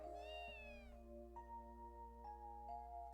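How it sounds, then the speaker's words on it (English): A cat in the video game Trails to Azure gives a drawn-out meow, followed by a few shorter, softer meows over a steady background tone. "Yeah, it's that cat."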